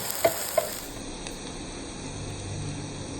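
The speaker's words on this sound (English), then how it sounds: "Saute this on medium flame for 3 to 4 minutes." Okra sautés with turmeric in a pan over a medium flame, a steady close sizzle with two sharp utensil clinks from stirring near the start.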